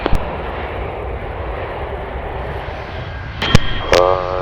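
An airliner landing on runway 30L at Belgrade Airport gives a steady engine roar at moderate distance, and a few brief sharp clicks and tones come near the end.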